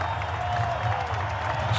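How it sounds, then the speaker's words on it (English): A big baseball crowd at a San Diego Padres versus San Francisco Giants game roars and applauds in a steady, dense wall of noise, with a commentator's voice faintly over it. "And the big crowd, everybody on their feet now,"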